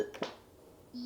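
Short electronic beeps from buttons pressed on a Baby Einstein Curiosity Table toddler toy: a quick pair of faint tones, a pause, then a steadier tone starting at the end.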